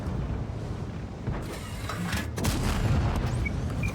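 Tank cannon fire in the online game World of Tanks, loud booming blasts over dense rumbling battle noise, with a sharp shot near the middle and another heavy hit shortly after.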